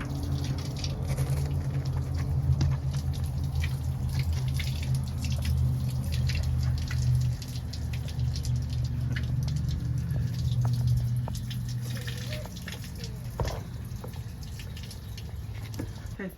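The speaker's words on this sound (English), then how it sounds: "I'm filling the freshwater tank" Water running into an RV freshwater tank from a city water hookup, a steady low rushing flow with light patter and dripping, close and continuous, gradually quieting toward the end.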